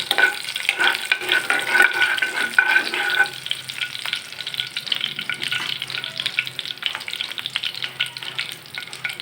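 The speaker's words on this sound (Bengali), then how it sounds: "শুকনা মরিচটাকে ভালো করে ভাজা ভাজা করে নেব" Dried red chillies fry in hot oil at the start of an amaranth leaf stir-fry, giving a loud, close, crackling sizzle with spatula scraping and stirring that carries on without pause.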